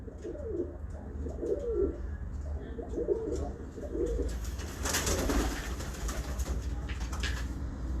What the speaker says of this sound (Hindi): ये कबूतर देख लो दोस्तों